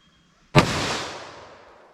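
A single sharp .38 Special +P+ revolver shot from a 2-inch barrel, loud and close, with a long decaying echo afterward.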